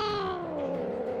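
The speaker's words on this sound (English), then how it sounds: "Wow, look, it's a kitten." A kitten in the Minecraft video game gives a single drawn-out meow with a falling pitch, close and clear with no talk over it.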